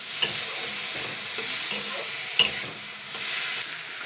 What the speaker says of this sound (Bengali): এবার আমি এটাকে ভালো করে আলু টমেটোটাকে আগে ভালো করে কষিয়ে নেব।